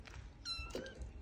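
A kitten gives a short, faint meow once amid quiet indoor background noise.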